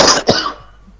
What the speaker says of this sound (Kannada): ಸ್ವಲ್ಪ ಕೆಮ್ಮು ನೆಗಡಿ ಆಗ್ಬಿಟ್ಟಿದೆ